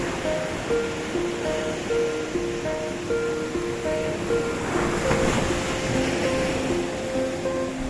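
Ocean surf rushes steadily onto a secluded Goa beach lined with coconut palms while a gentle, simple melody plays over the waves.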